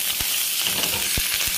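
Cumin seeds and a pinch of asafoetida sizzle in a small tempering of hot oil, a brief close hiss broken by a few sharp pops.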